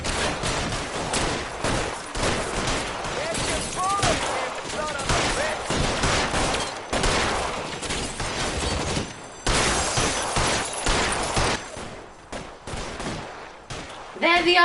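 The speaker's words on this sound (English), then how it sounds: "Shooting" Dense gunfire shootout in the video game L.A. Noire, with rapid overlapping shots and bursts going on nonstop at close range and high volume, and brief pauses toward the end.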